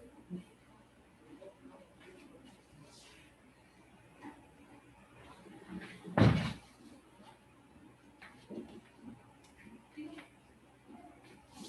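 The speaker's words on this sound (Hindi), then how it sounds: "दरवाजा क्लोज करो।" A door shut in a classroom during a skincare lesson, landing as a single solid thud midway, with murmuring voices and room noise around it.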